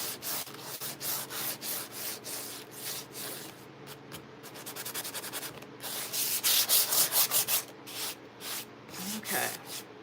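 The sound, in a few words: small electric sander roughing up a book cover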